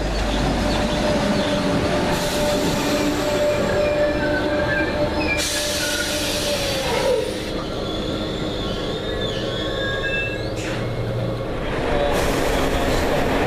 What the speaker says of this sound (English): Comes our train.